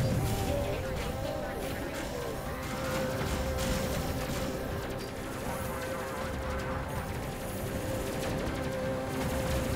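Guns repel boarders in the space combat game Space Crew, firing in dense, continuous bursts of gunfire over a busy game soundscape while a voice talks over it.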